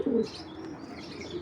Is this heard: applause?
no